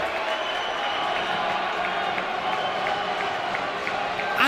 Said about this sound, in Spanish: Ante los aplausos de la grada menorquina.